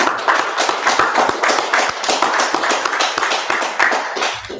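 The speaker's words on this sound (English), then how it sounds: "Go ahead, clap it up." Several people clap their hands in a steady, repeated rhythm, sharp and close, with each beat distinct and no talking over the sound.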